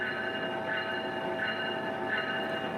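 A train running, likely a model or simulated railway, producing a steady mechanical whine with sustained tonal hum and faint periodic swells, fairly quiet, with no voices.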